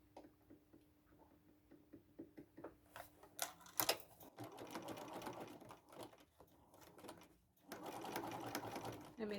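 A sewing machine runs a zigzag stitch along a small seam on a bucket hat. Soft ticking comes first, then bursts of steady motor whirring come up close, broken by short pauses.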